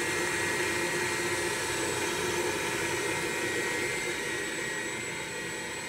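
A Grizzly G0704 CNC mill spindle runs at 1500 RPM, giving off a steady, close mechanical whir and whine with a broad hiss that holds constant throughout and fades only slightly at the end.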